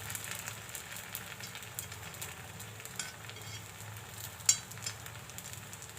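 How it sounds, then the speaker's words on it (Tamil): Karupatti paniyaram frying in a pan as the pieces are flipped over, giving a steady low sizzle with a few soft clicks of turning, quiet and close with no talk. "ஒரு பக்கம் வெந்துருச்சு. இப்போ திருப்பி போட்டுடலாம்."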